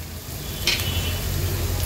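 Onion, ginger and crushed garlic cooking gently in oil in a pan on a low flame for a prawn rice dish, giving a steady soft sizzle with a brief stir near the middle.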